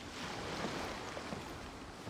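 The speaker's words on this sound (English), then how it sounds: "The sound of the ocean waves." Steady ocean waves washing in the Genshin Impact video game, a continuous broadband surf and wind-like rush heard alone at moderate level.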